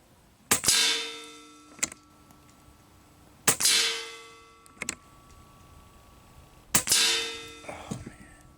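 Umarex Gauntlet 2 regulated PCP air rifle firing pellets: three sharp, loud shots spaced about three seconds apart, each followed by a ringing decay, with softer clicks of the action between shots.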